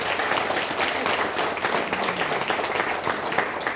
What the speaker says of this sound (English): Yeah, they deserve a clap.